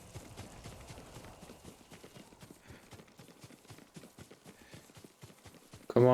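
Horse hooves clip-clopping at a steady walking rhythm in the video game Ghost of Tsushima, a long series of even, moderately faint thuds with no talk over them.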